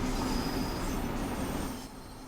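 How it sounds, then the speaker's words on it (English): Trains rolling through the Frankfurt rail area in Train Sim World 5, a loud steady rumble of wheels on track with a faint wheel squeal, easing off slightly toward the end. "Look at all the trains coming in and out."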